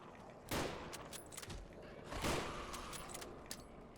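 Gunfire in the video game Fallout 4: London: a couple of sharp shots ring out over a low, quiet background, spaced apart with faint clatter in between.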